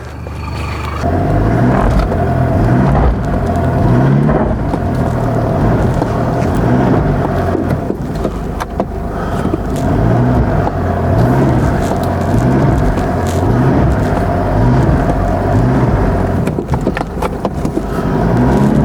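A car engine revs steadily as the vehicle drives out over traction boards placed under its wheels, a continuous loud rumbling drone with rhythmic pulsing throughout.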